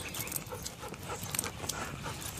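A young dog, now grown fairly big, whimpers and pants softly nearby in a backyard garden in May, with brief yips over steady outdoor background noise.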